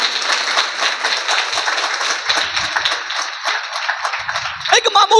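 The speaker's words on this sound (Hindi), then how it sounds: "जोर से ताली बजा के प्रभु के नाम की स्तुति करें" A congregation claps loudly in praise at a church service, with dense sustained applause filling the room throughout and voices rising near the end.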